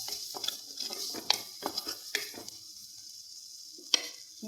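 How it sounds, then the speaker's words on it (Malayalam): A spoon stirs turmeric and chili powder in a frying pan for a raw mango curry, with soft scraping and clinking over a low continuous sizzle. The sound is close and fairly quiet, and no one speaks. "അതൊന്ന് ഇളക്കാം."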